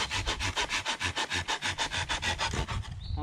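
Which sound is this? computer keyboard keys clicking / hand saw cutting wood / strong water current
hand saw cutting wood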